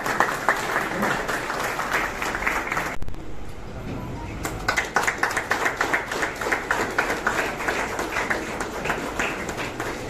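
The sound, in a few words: applause from the audience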